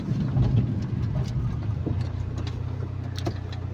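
A car creeping at low speed in gear on a hill road, a low uneven engine rumble with faint knocks and rattles, steady and moderately loud from inside the cabin.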